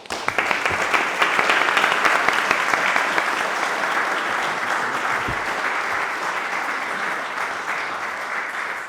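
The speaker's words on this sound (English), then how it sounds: "Also, also give a round of applause to our moderator, Per Luigi." An audience at a Councilmember candidate forum held in a church gives a sustained round of applause, steady and fairly loud throughout with no voices over it.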